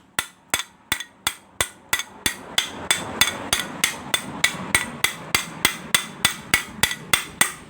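Sharp metallic hammer blows drive a bearing into a top-loading washing machine's spin shaft assembly in a steady, even rhythm, about three per second, close and loud, with ringing tails between hits.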